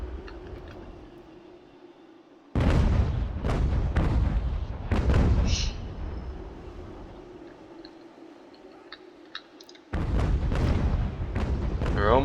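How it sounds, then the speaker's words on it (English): Musket and artillery fire in Ultimate General: American Revolution rolls as heavy booming volleys and crackling shots, loud bursts separated by a quieter stretch of distant rumble, with talk faintly underneath. "But they'll still fire off rounds."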